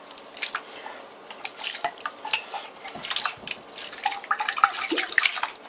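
Proofed yeast is poured into a rye bread mixture in a kitchen, a quiet wet slosh and drip with light clinks of a bowl and utensil throughout.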